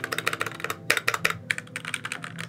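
Rapid typing on a budget mechanical keyboard with red Cherry-style switches and PBT keycaps, crisp clacky keystrokes in quick bursts with a short pause, close and fairly loud, no voices.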